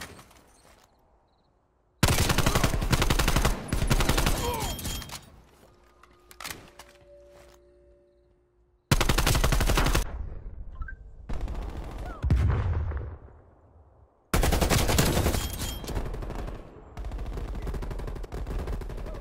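Loud bursts of automatic gunfire in a video game, several separate volleys broken by short silences, close and punchy with scattered single shots.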